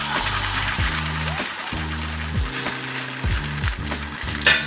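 A corn tortilla dipped in birria soup base fries in a well-oiled skillet, giving a steady, close hiss and crackle that runs without a break under a soft music bed.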